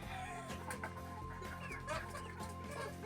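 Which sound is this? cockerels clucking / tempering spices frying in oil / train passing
cockerels clucking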